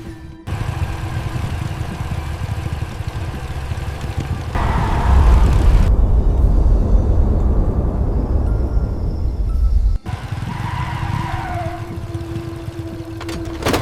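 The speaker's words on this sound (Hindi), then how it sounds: "अचानक बाइक तेज हो गई, जैसे किसी ने पीछे से जोर से धक्का दिया हो।" Motorbike engine surging from a steady mid-pitched drone into a louder, rougher roar as it suddenly speeds up, then cutting and returning, as an eerie horror-story sound effect with no voices.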